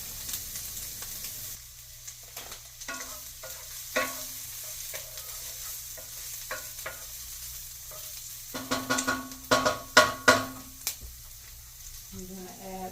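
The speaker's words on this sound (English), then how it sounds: "some onions being sauteed" Onions saute in a pan with a quiet, continuous sizzle, punctuated by scraping and stirring clatter that grows busier and louder toward the end.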